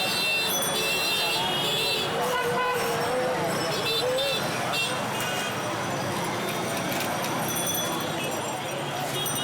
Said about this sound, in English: Even if traffic is at a complete standstill, horns are always honking.